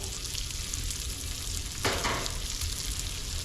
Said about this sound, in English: we're gonna fry this up until it starts to get a little bit amber color, like straw